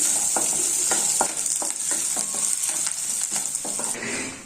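Onions fry in oil with chana dal, urad dal, cumin and mustard seeds, giving a constant close sizzle broken by repeated crisp spatula scrapes and taps against the pan, with nobody speaking.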